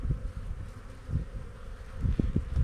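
Honeybees in an open hive crowded with bees, a dense low buzzing drone with rustling and a few louder close passes near the end, no talk.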